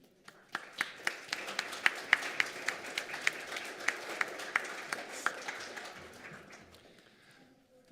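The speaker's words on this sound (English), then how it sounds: "let us give you a round of applause for your role in this work" Applause from a church Sunday service audience, with a few distinct sharp claps standing out over a steady patter that builds quickly and then fades away over several seconds.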